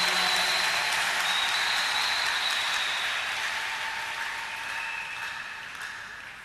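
A church congregation applauds the Lord in a steady, dense wash of clapping from many hands that fills the hall, holding strong before slowly fading, with no voices on top.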